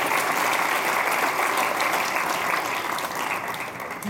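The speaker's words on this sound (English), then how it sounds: "How about a round of applause for our Symphonic Band?" Sustained audience applause for a high school symphonic band at a winter concert, a steady dense wash of clapping holding throughout and easing slightly near the end.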